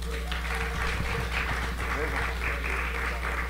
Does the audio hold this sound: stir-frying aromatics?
no